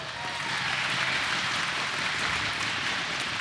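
Archery crowd at a youth male recurve final applauds a perfect 10, a steady wash of clapping that holds evenly from start to finish with no voices on top.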